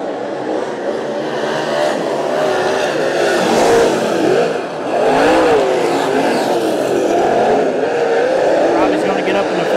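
Race cars roar around a track in a continuous loud engine drone that swells and dips as they hold their lengths. A commentator talks over the racing throughout.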